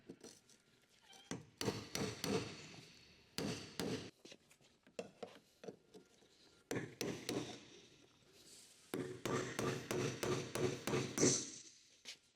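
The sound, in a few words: hammering screwdriver to tighten lock ring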